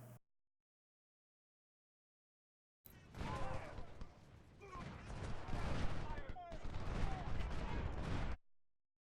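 Musket and cannon fire crackles in a Civil War strategy game battle, Ultimate General: Civil War, in dense rolling volleys. The fire starts abruptly after a silence and continues loudly for several seconds.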